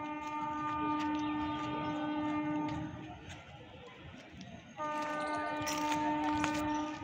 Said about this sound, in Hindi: वंदे भारत ट्रेन प्लेटफॉर्म संख्या 2 से रवाना हो रही है।